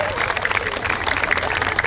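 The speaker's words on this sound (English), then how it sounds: "Round of applause for the medical scenario brought to you by Better and Better." Crowd applause at a New York State Police special operations response exhibition, dense clapping from many spectators outdoors, rapid and continuous over a short stretch with a voice faintly underneath.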